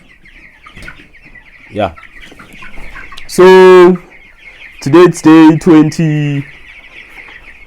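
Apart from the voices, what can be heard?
broiler chickens clucking in a chicken house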